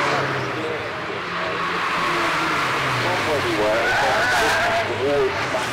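A freshly fitted engine in a Ford Ka endurance race car idles and revs in the background at Cadwell Park circuit, humming steadily beneath someone speaking close by, with other cars audible around the paddock.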